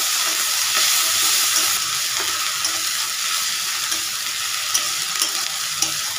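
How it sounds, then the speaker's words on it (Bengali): Onion paste fries in a pan after green chillies have gone into the oil, making a loud, dense, continuous sizzle with light stirring scrapes throughout. "এই যে আমি পেঁয়াজ বাটা, পেঁয়াজটা আমি একটু ভেজে নেব।"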